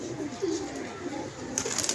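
Pigeons at a pigeon club coo softly, with a few low, throaty calls over a murmuring background and a brief flutter near the end.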